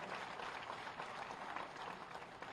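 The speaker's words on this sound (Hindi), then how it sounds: "तालियों का अपना संगीत होता है।" An audience at a teachers' award ceremony keeps up faint, distant applause, continuous and even throughout, with no break.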